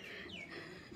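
Chickens cluck in a village yard, a short, fairly steady burst of fowl calls with a rising squawk over a constant outdoor background.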